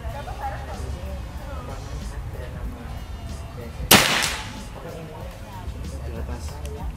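A PCP Predator air rifle fires a single shot with an HS Dome pellet outdoors, one sharp crack near the middle that decays quickly, while someone talks and background noise continues before and after.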